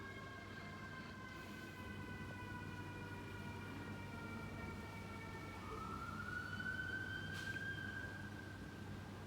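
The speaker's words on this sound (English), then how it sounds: "There's the sirens." Distant emergency sirens wail with rising and falling tones over a low traffic rumble, growing somewhat stronger midway.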